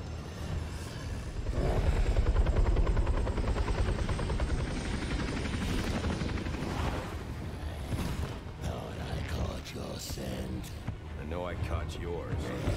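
A helicopter in the video game Batman Arkham Origins thrums with a steady rotor drone beneath game effects and a voice talking over it, with heavier rumbling at the start.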